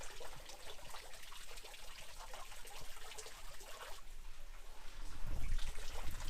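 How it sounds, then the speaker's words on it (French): Water flows and trickles steadily through natural hot spring pools in Guatemala, a close, continuous rushing sound that swells slightly louder toward the end, with no voices. "On entend juste l'eau couler quoi."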